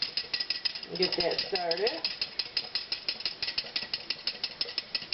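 Red wine vinegar vinaigrette with Dijon mustard being whisked in a bowl, a quick regular train of sharp clicking strokes close by, with a brief spoken line over the early strokes.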